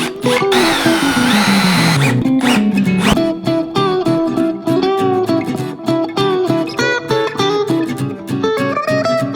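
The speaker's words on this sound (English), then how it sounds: "it's time to drill in those brackets" A power drill whirs in close, loud bursts drilling pilot holes for shelf brackets, its motor pitch dipping and climbing, then stuttering in quick repeated pulses as it bites in.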